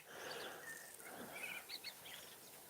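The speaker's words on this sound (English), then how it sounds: "Everyone noticed how the birds got louder after he leaves." Birds sing outdoors, faint and distant, a few thin chirps and short twittering calls rising over a soft steady background hiss, with no voices.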